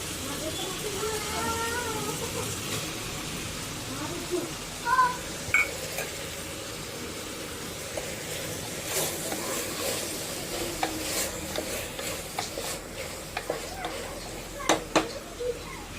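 Chopped tomatoes frying with ridge gourd in a pan for a traditional curry, a steady low sizzle with stirring scrapes and a few utensil clinks, with a voice talking over it.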